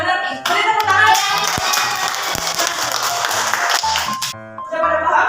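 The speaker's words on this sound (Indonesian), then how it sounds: "Beri tepuk tangan." Students in a classroom clap their hands together, a dense burst of applause lasting several seconds and heard alone without talk, ending with a brief pause and a short final flurry.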